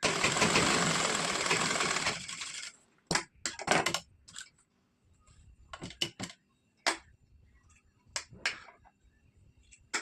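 A sewing machine stitches blouse fabric in one long continuous whirring run for about two and a half seconds, then falls silent before a series of short, sharp clicks and brief bursts of machine operation.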